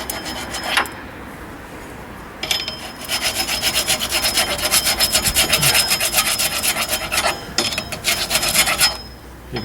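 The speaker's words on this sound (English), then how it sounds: "Maybe should have grabbed a flat file, would have been a little easier to get in here." File rasping rust buildup off the rear drum brake of a 2007 Pontiac G5, loud close scraping strokes in a steady back-and-forth rhythm, with brief pauses between passes and no talking.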